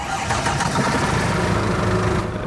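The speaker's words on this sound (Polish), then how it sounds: "Odpalamy silnik." A truck engine in Euro Truck Simulator 2 cranks and catches, settling into a loud, steady low idle rumble that runs close and continuous throughout.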